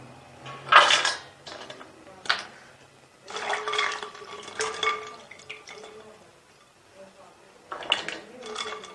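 Soaked potato strips for french fries are tipped into a strainer, with bursts of pouring and splashing water, clattering metal and dish knocks in irregular clusters, close and fairly loud, separated by quiet gaps.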